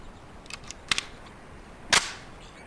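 Crisp gunshots ring out during a failure drill on a SWAT firing range in the PC game Police Quest: SWAT, several close pops in quick succession and then one louder shot after a pause.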